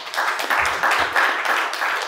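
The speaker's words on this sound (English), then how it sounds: "So how about a round of applause for David?" An evening audience at a real estate investing talk gives a round of applause, a dense, even wash of many hands clapping at moderate loudness for about two seconds.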